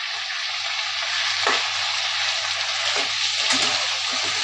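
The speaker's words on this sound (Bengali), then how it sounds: "খানিকক্ষণ আমি ভেজে নিচ্ছি চিকেনটাকে" Pieces of chicken frying in a kadai, a dense continuous sizzle up close with a few louder spits and stirring scrapes, no voices.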